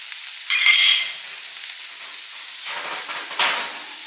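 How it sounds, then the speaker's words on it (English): Zuppa Toscana ingredients are stirred in a pot over steady, faint frying, with a scraping burst around the first second and another near the end. "Give it a stir. We'll cook that for about another 2 minutes."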